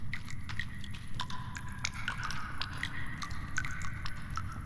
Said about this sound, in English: Why the hell is the dripping so loud?